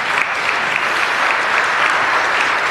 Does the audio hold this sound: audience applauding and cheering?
yes